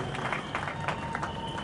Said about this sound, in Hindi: जोरदार तालियों से स्वागत करते हैं हमारे माननीय राज्यपाल महोदय का